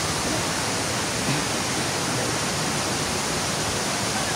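Waterfall on Samal Island, a steady broadband rush of falling water that holds constant and fairly loud throughout, with no voices over it.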